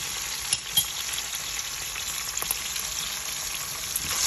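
Onions and colored peppers frying in oil for a paprika stew, a steady close sizzle that holds evenly throughout, with a few brief clicks of stirring and no talking.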